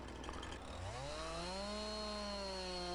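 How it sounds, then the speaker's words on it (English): A chainsaw in Farming Simulator 19 cuts down a tree: the engine whines up steadily to a high, sustained buzz that holds loud and close to the end. "Cut the tree down with the chainsaw."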